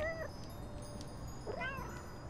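A cat meows twice in the Little Kitty Big City video game, a short rising call at the start and another about a second and a half later, over a steady low ambient hum with no talk.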